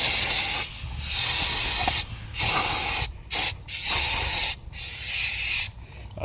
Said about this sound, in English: Now take a brake clean and clean off all the brake fluid on your hub